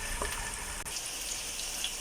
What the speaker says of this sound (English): In the pot I have onion with chilies and curry leaves frying.